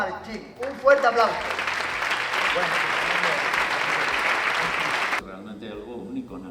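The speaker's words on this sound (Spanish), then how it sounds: "Un fuerte aplauso." A television studio audience breaks into loud, sustained applause after a Canary Islands artist from Lanzarote is introduced, the clapping steady for several seconds before cutting off, with a presenter's voice heard around it.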